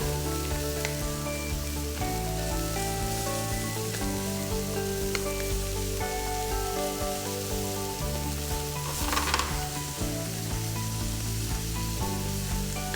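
Onions and peppers sizzle in a hot pan while being stir-fried, a soft steady hiss with faint stirring scrapes, sitting under background music with sustained melodic tones.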